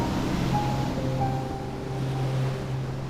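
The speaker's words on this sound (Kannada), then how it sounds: "ಅಲ್ಲಿಗಳ ಸದ್ದು ಮನು ಕೇಳ್ತಾ ಇದ್ರೆ ಎಷ್ಟು ಖುಷಿ ಆಗುತ್ತಂದ್ರೆ ಸದಾ ಹಾಡ್ಬೇಕು ಅನ್ಸುತ್ತೆ." Ocean waves wash onto Mattu Beach in Udupi, coastal Karnataka, in a steady, even rush, with a faint low hum in the background.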